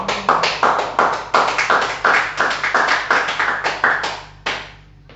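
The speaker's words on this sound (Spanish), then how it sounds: "Entonces bríndele un fuerte aplauso al Señor." A church congregation claps in a steady, rhythmic beat, about two sharp claps per second, loud and close with no talking, fading out near the end.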